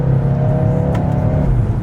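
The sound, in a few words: Mercedes-Benz GLA 250 turbocharged 4-cylinder car accelerating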